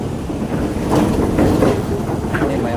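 A train rumbles over a colonial-era bridge in West Java, a close, loud rolling roar with rhythmic rail clatter and a few faint voices in the background.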